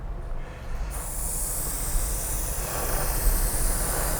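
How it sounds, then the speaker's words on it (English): Airbrush opened up full spraying paint onto a Tamiya Comical Grasshopper model kit, a steady close airy hiss that holds without a break from start to finish. "So I've got my airbrush opened up quite full."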